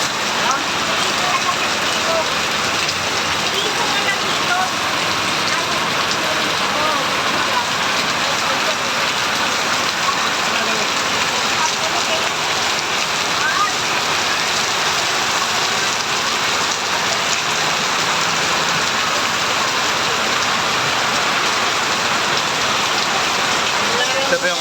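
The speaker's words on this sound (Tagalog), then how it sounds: "ang lakas ng ulan" Heavy rain pours steadily and loudly onto surfaces, a dense continuous hiss lasting throughout, with faint voices beneath it.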